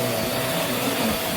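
Vax Mach Air upright vacuum cleaner running on carpet, a steady loud whooshing motor drone with a faint tonal whine, constant and close throughout.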